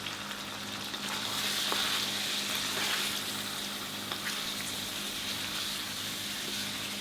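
Spices and salt sizzle steadily in a hot frying pan while being stirred for a chicken curry, a continuous close crackling hiss with small scraping accents and no talking.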